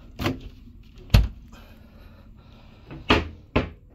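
A mini fridge door in a cruise ship mini-suite stateroom thumps open and shut several times, sharp close knocks with quiet gaps between them.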